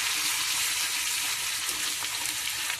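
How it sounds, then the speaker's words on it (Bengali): Tomato and capsicum paste frying in hot oil, a continuous close sizzle and bubbling hiss with small pops, fairly quiet and steady, without any voices. "একেবারে তেলের সাথে ভেজে নেবো মশলার মতন টমেটো আর ক্যাপসিকাম।"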